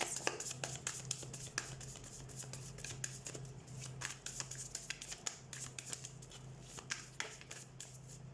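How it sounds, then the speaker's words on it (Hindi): Tarot cards are shuffled by hand in a quiet room, a soft rapid riffling and slapping of card stock with irregular crisp ticks and shuffles, close and faint, with no talking. "सबसे पहले हम कार्ड शफल कर लेते हैं"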